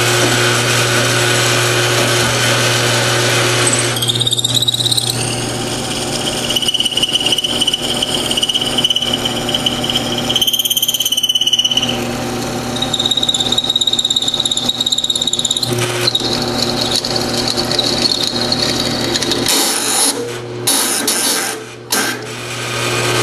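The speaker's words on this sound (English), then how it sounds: "I'm drilling a hole through the tabs that I'm going to weld on there to put a handle" A power drill bores holes through metal tabs for a rocket stove handle, a loud sustained whine and grinding with shifting pitch, pausing and restarting several times up close.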